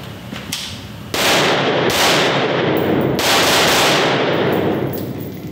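A 5.56 rifle with a 16-inch barrel and a SureFire WARCOMP muzzle device fires loud sharp shots, with a bang near 1 and 3 seconds and heavy ringing blast echoes between them.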